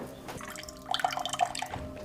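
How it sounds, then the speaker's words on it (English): Cold water runs from a kitchen tap at weak pressure as an uneven trickle with audible drips and splashes, fairly close and moderately quiet. "This is our cold water pressure in the kitchen."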